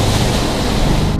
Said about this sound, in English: Take a look at the waves crashing inside this home in North Topsail Beach.